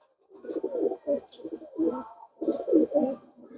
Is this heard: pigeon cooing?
yes